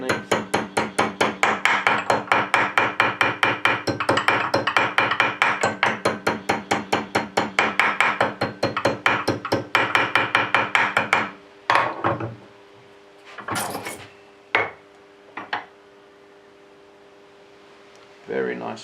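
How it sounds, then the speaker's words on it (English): Rapid, steady metal tapping hammers a propeller blade over a mandrel, dozens of close, even strikes for about eleven seconds, followed by a few scattered knocks and handling noises. "It's very important to tap all the way across, not just on the edges"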